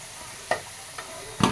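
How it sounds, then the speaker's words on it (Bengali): Potatoes fry in oil, a soft continuous sizzle close by, broken by a few spatula scrapes and knocks against the pan, the loudest coming at the very end. "আলু লাল লাল করে ভাজা হয়ে গেছে"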